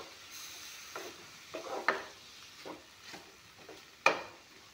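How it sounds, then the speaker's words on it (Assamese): Grated pumpkin frying in a pan, heard as a soft, steady sizzle broken by several scraping stirs, with one sharper scrape near the end; quiet and close, with no talking. "এয়া চাওক, কোমোৰা জালিখিনি ভালদৰে ভজা গৈছে।"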